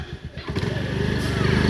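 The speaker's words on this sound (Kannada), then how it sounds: "ಯಾರು ಸ್ಟಾರ್ಟ್ ಮಾಡಿದ್ದು ಗಾಡಿ" A two-wheeler's engine catches and settles into a steady idle at a home during a Sankranti festival, its low rumble building and holding close by, with faint voices in the background.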